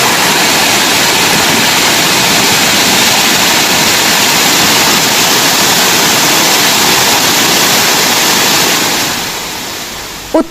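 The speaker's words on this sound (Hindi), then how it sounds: "झरने ने खतरनाक रूप अख्तियार कर लिया है। पानी खतरनाक लेवल पर है और बहाव बहुत तेज।" Kempty Falls in Mussoorie roaring in dangerous flood flow, a loud, dense, unbroken rush of fast water that stays steady and then fades slightly near the end.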